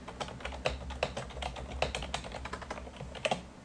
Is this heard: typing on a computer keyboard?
yes